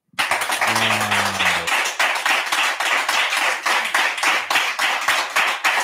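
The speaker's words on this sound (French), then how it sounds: "Merci de recevoir la prophétesse sous vos applaudissements, s'il vous plaît." Studio audience applause welcoming a guest on a talk show, brisk rhythmic clapping that fills the room and holds steady and loud for several seconds, with a brief hum of sustained tones near the start.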